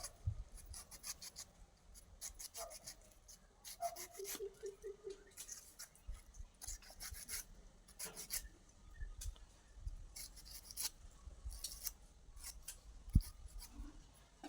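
Food being cut into small pieces by hand in a home kitchen: a steady run of short, crisp snipping and rasping strokes, close and moderately loud, with no talking.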